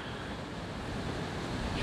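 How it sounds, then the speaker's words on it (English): Steady, heavy wind buffeting a microphone outdoors by a river on a very windy March day, a continuous broadband rumble that swells slightly louder toward the end, with no voices. "a very windy day in March"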